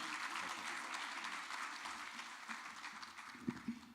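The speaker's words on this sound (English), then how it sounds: "A big round of applause for Miami-Dade County Commissioner Daniela C" Steady applause from a crowd at an evening community event fills the space, a dense wash of clapping with a few louder claps standing out near the end.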